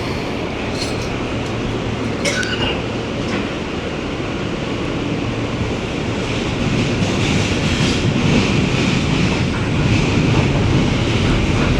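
A New York subway train rolls through Jamaica Van Wyck station with a steady, broadband rumble and faint rail clatter, growing slightly louder toward the end. A few brief high squeals or hisses cut in near the start.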